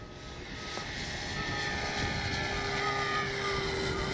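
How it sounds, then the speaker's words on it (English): A Dynam Tucano RC model airplane in flight on a very windy day gives a steady, continuous engine drone with faint whining tones, mixed with broadband wind rush, and no voices. "Oh, what a good flying plane, even in this crazy wind."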